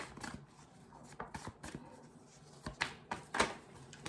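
A deck of tarot cards is shuffled by hand with quiet, crisp riffling bursts and soft taps, repeated irregularly and close up with no talking.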